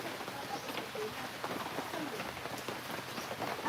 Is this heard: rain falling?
yes